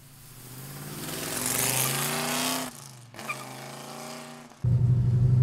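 A 1970 Mercury Cyclone Boss 429 V8 revs up with rising, rumbling engine tones, drops off briefly, then settles into a loud, deep, steady idle burble close by.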